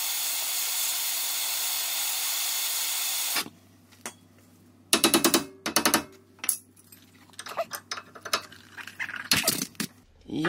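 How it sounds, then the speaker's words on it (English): A high-temperature torch, hotter than a propane can, roars steadily while heating a tie rod on a Nissan Pathfinder, then cuts off, followed by scattered metallic tool knocks and scraping. "Here I use this torch. It has higher temperature than the propane can"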